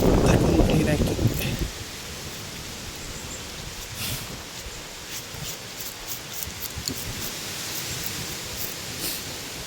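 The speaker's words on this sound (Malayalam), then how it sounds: "നല്ല കാറ്റുണ്ട് കേട്ടോ" Wind blowing across the microphone, a loud gust at first that settles into a steady, rushing breeze with occasional rustling.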